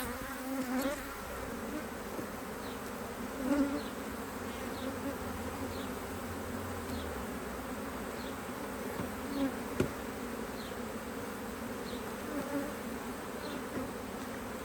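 Honey bees buzz steadily around an opened hive after swarming, a continuous close drone with individual bees zipping past now and then, with no talk over it.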